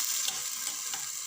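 Onions frying and being stirred in a pot for a vegetable and fish soup, a soft, faint hiss of sizzling oil with light scraping of the spoon, brief and alone.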